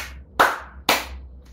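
Recorded on the left side by the internal microphone of a Sony Xperia XZ3 phone, a pair of crisp, nearby hand claps rings out about half a second apart in a quiet indoor space.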